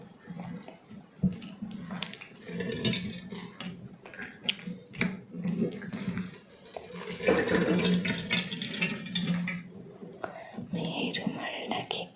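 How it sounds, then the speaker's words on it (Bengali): A handkerchief is soaked and squeezed in a bowl of water, giving soft close sloshing, dripping and squishy wet handling, with gentle whispered talk running through it. "এবার এই রুমালটাকে আমি এই জলে ভালো করে ভিজিয়ে নেব।"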